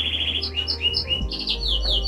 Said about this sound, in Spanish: Ay, benditos pájaros